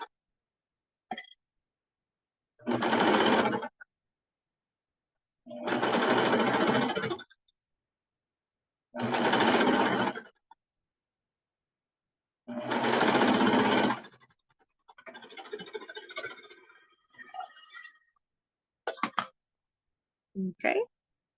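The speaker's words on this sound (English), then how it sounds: "I have to make sure that my clips don't get caught up in my sewing machine" A sewing machine stitches a bomber jacket in four loud, steady bursts of a few seconds each, separated by pauses, followed by shorter, lighter runs and brief handling noises.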